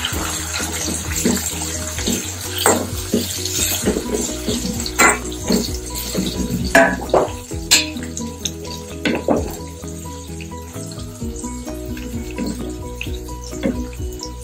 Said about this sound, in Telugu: పచ్చిమిరపకాయలు కొంచెం వేగిన తర్వాత టమాటాలు కూడా వేసుకోవాలి.